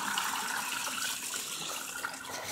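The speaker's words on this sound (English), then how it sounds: "Right now my sister's just playing with the water." Water runs steadily with a broad, hissing splash, like a tap or stream being played in, continuous and fairly close, with no talking.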